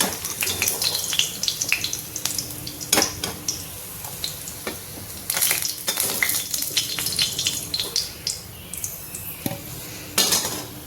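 Potatoes fry in oil in a home kitchen pan while a utensil stirs and scrapes, giving a quiet, continuous sizzle broken by frequent metallic clatters and clinks.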